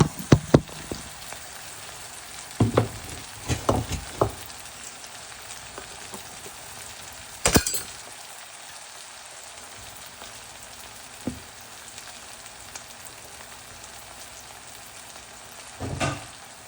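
Onions fry in a pan on a stove, giving a steady soft sizzle throughout with a few sharper pops and clatters of stirring, close and moderately loud, with no talking.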